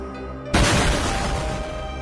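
An explosion sound effect in a dramatized scene, a sudden loud boom after a quiet hum, followed by a sustained crackling, rumbling wash that slowly fades.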